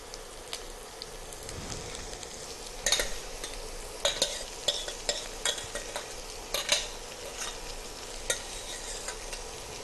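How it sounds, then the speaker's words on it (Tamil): Freshly cooked, separate-grained rice is scraped and scooped from a pan onto a plate, a soft granular rustle broken by sharp spoon-on-metal taps at irregular intervals, close and without any talking. "இதை உடனே ஒரு தட்டில் ட்ரான்ஸ்ஃபர் பண்ணிடுங்க."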